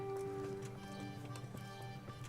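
Horse hooves clip-clop at a steady rhythm in Kingdom Come: Deliverance, faint and low under a droning background, with no speech.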